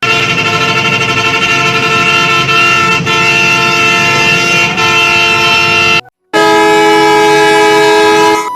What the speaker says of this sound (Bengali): আর অবশ্যই এটার হর্নটা আপনারা এখন শুনে দেখেন